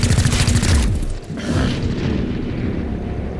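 Gunfire in the XCOM: Chimera Squad video game, a few loud booming shots with heavy low-end rumble up front, followed by a fading, sustained roar and reverberant tail.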